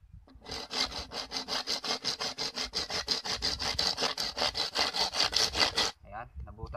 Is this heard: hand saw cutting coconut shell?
yes